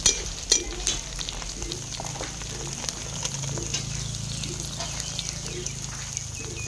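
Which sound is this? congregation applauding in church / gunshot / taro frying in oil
taro frying in oil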